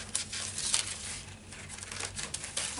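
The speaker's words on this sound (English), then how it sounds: "Looks like they sent some tissue paper." Tissue paper crinkling and rustling while a Canvas Corp craft supply package is unboxed: close, continuous papery crackles and crunches with small bursts, no talking.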